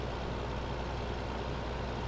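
Tractor in Farming Simulator 15 driving itself along a Courseplay course, a steady broadband engine drone with a low hum underneath, continuous and close with nothing else over it.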